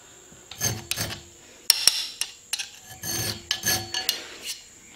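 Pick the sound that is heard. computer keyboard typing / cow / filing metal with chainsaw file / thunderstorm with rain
filing metal with chainsaw file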